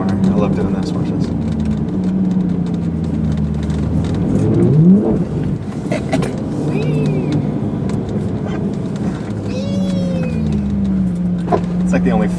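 A car drifting around a corner on a coffee run, its engine droning and revving steadily close by, with a rising whine of acceleration midway and occasional voices over the motor.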